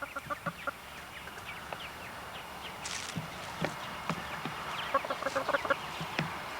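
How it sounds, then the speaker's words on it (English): Chickens cluck and call in a farmyard, with short scattered clucks and occasional louder calls at moderate distance over a steady background. "There's a little pullet right there"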